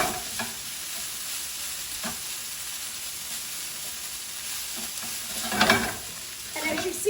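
Fried rice stirred and tossed in a skillet over high heat, a steady sizzle broken by scraping stirs, with a louder burst of frying near the end and no talking.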